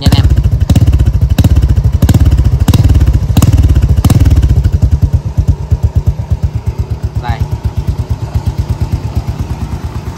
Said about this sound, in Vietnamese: em sẽ lên ga nhẹ nhẹ để cho anh em nhận biết được cái tiếng bô